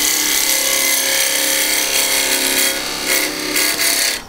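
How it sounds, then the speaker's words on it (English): Lathe turning a large bead on gum burl wood, a loud, steady scraping tool cut with a constant machine hum, easing into uneven bursts near the end. "So I'm going to just start here and start whittling this edge off."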